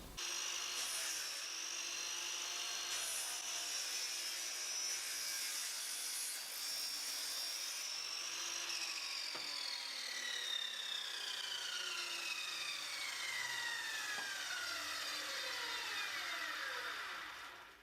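Drop saw cutting merbau timber into small strips for box splines, a sustained grinding, rasping whine with a shifting pitch as the blade moves through the hardwood, steady throughout and without talk.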